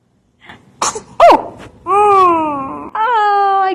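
Xylo gives a sharp little sneeze followed by two drawn-out, high, tonal squeaky whines, close and loud against otherwise quiet surroundings.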